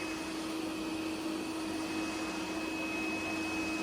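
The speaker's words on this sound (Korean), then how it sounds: "청소기 좀 들어오게 해줘." A vacuum cleaner runs indoors at home with a steady, even whine and hum that holds unchanged throughout, fairly quiet and with no voices.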